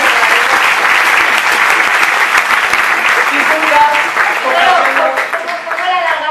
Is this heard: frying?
no